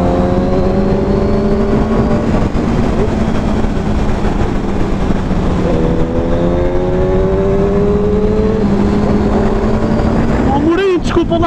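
Honda CBR650F motorcycle engine revving and accelerating on a test ride, a loud continuous drone rising and falling in pitch through several gear changes, close up with wind noise and voices talking over it.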